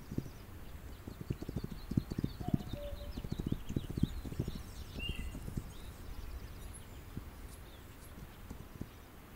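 A horse's hooves clip-clop on a dirt road in a video game, a steady walking rhythm that is fairly quiet and gradually thins out, with faint bird chirps in the background.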